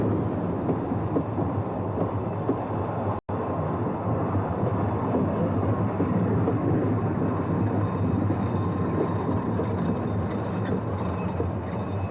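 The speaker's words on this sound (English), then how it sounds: "Mountaineer arrives from the west, coupled to Conwy Castle, a Planet diesel built in 1958, hauling a long service train" On the Ffestiniog Railway during a 1986 gala, the locomotive Mountaineer arrives coupled to Conwy Castle, a 1958 Planet diesel, hauling a long service train; a steady, even rumble of engine and rolling wagons continues throughout without talk.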